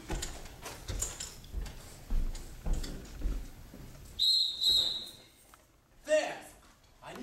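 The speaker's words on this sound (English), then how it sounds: "That ain't no police whistle, that's a sporting whistle." A sporting whistle sounds in a stage play of Pygmalion, two shrill, steady blasts partway through, with actors talking before and after it.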